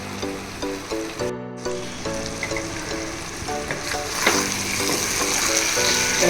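Potato pieces coated in masala sauté in a pan for potato biryani, a continuous sizzle with repeated rhythmic spatula scrapes and knocks, one brief sharp clatter near the start, heard close and without speech.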